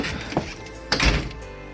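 A newly installed storm door swings shut, giving a couple of dull thunks and a brief rattle, close and fairly loud, with no talking.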